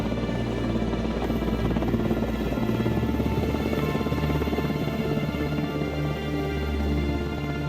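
A helicopter airlifting sailors from a Royal Navy warship makes a loud, continuous rotor and engine drone with a deep, steady throb that dominates from start to finish, with no talk over it.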